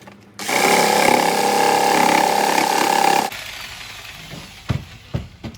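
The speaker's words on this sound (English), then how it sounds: "you take this machine to remove the bottom, the jigsaw" A jigsaw cuts the bottom off a plastic bucket, a loud, steady buzzing roar that runs for about three seconds, then cuts off, leaving some faint handling clatter.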